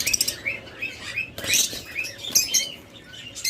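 A pair of pet lovebirds or budgerigars sold as a breeding pair chirp close by in short, bright bursts, with light rustling and wing flutters in between.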